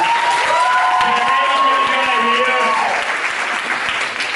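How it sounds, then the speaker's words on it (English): Loud, dense applause from an audience fills the room without a break, with a few whistling tones gliding over it and some murmured voices underneath. "Let's give a round of applause for this."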